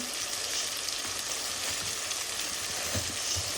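Chillies sizzling in hot oil give a loud, steady frying hiss with scattered crackles and pops, heard close up and without voices.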